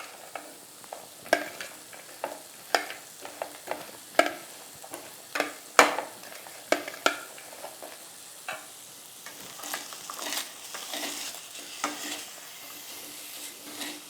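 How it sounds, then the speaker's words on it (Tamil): Paneer sautéing in a pan, with lemon juice mixed in: a soft, continuous sizzle under a long run of irregular spatula taps and scrapes, close and fairly quiet. "பன்னீர் வந்து ஓரளவு இது வதங்கிடுச்சு"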